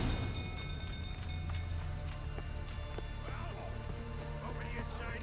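Horses trapped in a burning stable in The Witcher 3, with a steady clatter of hooves, stamping and occasional whinnies under urgent voices and crackling background noise.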